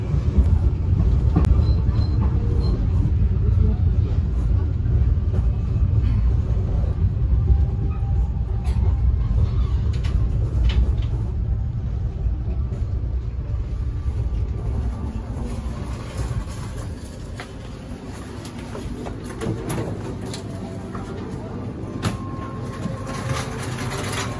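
Banyubiru passenger train rolling along the rails between Semarang and Solo, a steady, loud rumble of wheels and carriage noise heard from inside, continuous throughout with no talking.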